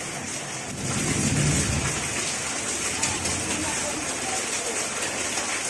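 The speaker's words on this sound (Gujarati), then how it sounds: "અત્યારે ધોરાજીમાં કડાકા ભડાકા સાથે ધોધમાર વરસાદ ચાલુ છે" Heavy monsoon rain lashes Dhoraji amid thunder, a loud, continuous hiss of downpour with a low rumble building around the first second and a car faintly passing beneath the steady roar.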